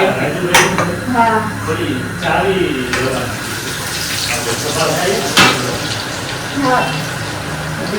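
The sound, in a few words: carrots frying in a pan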